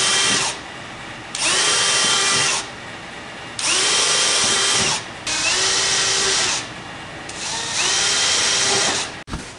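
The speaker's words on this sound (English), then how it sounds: "And then I'm going to take a drill and drill out the holes for the trim." A power drill bores trim holes in a 1955 Mercury door card panel, running in four or five loud bursts of steady whine separated by short pauses, close up with no talking.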